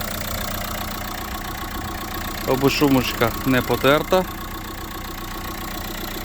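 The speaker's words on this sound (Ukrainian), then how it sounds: "Бач, чиста робота двигуна." A used 2014 car's engine idles at a Saturday car market in Rivne, a steady low hum running throughout while someone talks briefly over it midway.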